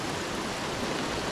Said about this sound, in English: Glorious rain is falling and making things cool,